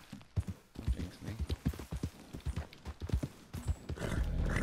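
Horse hooves clip-clop in a steady rhythm within Red Dead Redemption 2, close and fairly loud, with a brief whinny near the end.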